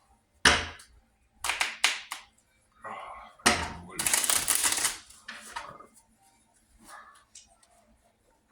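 A deck of cards is riffled and shuffled in several quick, crisp bursts, with small taps and shuffling noises between them.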